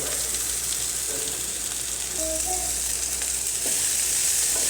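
Cabbage and cauliflower frying with green chillies in a pan, a loud, steady, close sizzle that continues throughout, broken only by faint stirring sounds.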